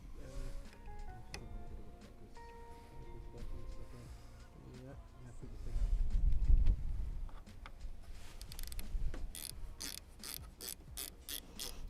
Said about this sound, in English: putting a little bit of pressure on the back of the ring spanner helps. And then you can just spin that around.